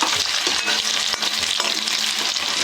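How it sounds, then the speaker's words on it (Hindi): Onion is dropped into hot oil with garlic and fries with a loud, dense sizzle, with occasional stirring clicks close by and no talking. "मैंने पहले इसमें तेल गरम किया, फिर मैंने लहसुन डाल दिया था। तो अब मैंने प्याज डाल दिया है इसमें।"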